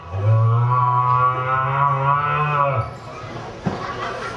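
A man imitates a cow with one long, deep, loud moo that holds steady, then tapers off and stops. A short thump follows in the quiet afterward.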